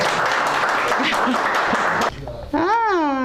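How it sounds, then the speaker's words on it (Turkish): A television studio audience applauds on a talk show, a dense wash of clapping for about two seconds that cuts off abruptly, followed by a rising and falling musical tone. "Helal olsun Gökhan Sengele diyeyim siz de alkışlayın bence"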